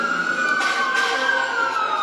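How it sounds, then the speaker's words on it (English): Sirens wail steadily through a short stretch at a street rally outside the Department of Justice in Los Angeles. A single sustained tone holds over a dense crowd and traffic hum. "Yeah, sirens."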